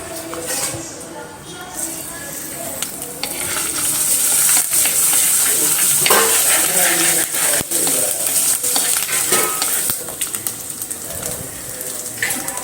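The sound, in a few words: ginger garlic paste frying in coconut oil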